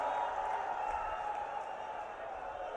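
Audience applause at a PM Modi political rally in Churu, a faint, steady wash of distant clapping and crowd noise with no clear breaks.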